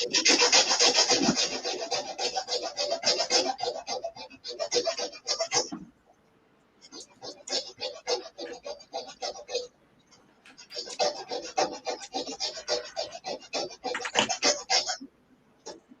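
Loud, close, rhythmic rasping as a file scrapes back and forth across a wooden joint to smooth it, in long bursts separated by short pauses.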